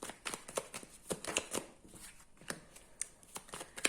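Tarot cards shuffled and drawn by hand, with a run of close, crisp riffling snaps and soft slides in an irregular rhythm and no talking.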